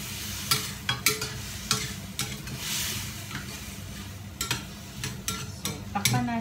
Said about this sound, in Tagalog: Mix-mix natin yung kanyang pato.